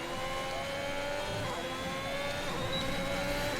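Race car engine lapping in the F1 2021 video game, a steady high whine held at constant pitch throughout, fairly faint and continuous with no talk over it.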